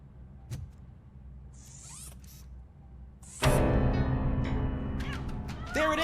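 Short cat meows in the video game Robocop Rogue City, scattered over a quiet stretch before a loud burst of game noise takes over.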